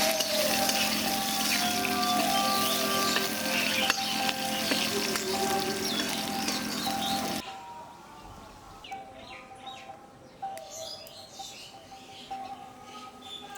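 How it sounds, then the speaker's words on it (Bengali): Chopped onion fries in oil with cardamom, bay leaf and dry chilli for a village-style egg curry, giving a loud, steady sizzle that drops halfway through to a quieter crackle with scattered small pops. "এটাকে হালকা করে ভেজে নেব"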